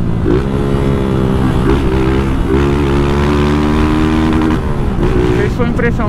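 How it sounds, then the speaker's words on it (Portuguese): Engine of a Honda Titan 160 motorcycle being ridden, a steady, close, buzzing drone with wind rush. One brief stutter comes near the end. A rider talks over the engine throughout. "Não sei se foi impressão minha ou se a moto deu uma falhada mesmo agora."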